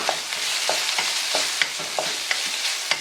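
Finely diced ham fries in oil in a wok, a constant sizzle broken by regular scraping strokes of a stirring utensil, close and clear with no talk.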